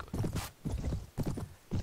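Horse hooves clip-clop in Mount & Blade, a steady rhythmic trot of several close, fairly quiet hoofbeats with what sounds like a faint whinny mixed in.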